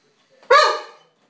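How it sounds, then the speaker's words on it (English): A single sharp bark from a dog, close and loud, lasting about half a second and then silence. "What are you barking at?"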